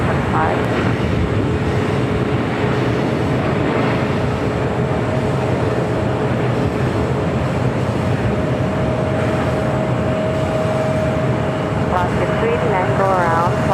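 A Korean Air airliner rolls down the runway at LAX, a loud continuous broadband jet roar with a steady whine, while a voice talks over it.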